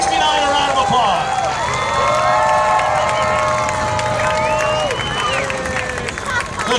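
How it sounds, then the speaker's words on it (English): A crowd cheers and claps loudly and continuously after a trailer race at the Antelope Valley Fair, with whistles and shouting voices rising over the steady roar of applause. "we have got to give the 20 and the 69 a round of applause"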